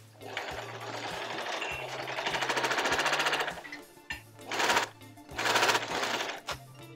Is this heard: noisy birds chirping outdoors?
no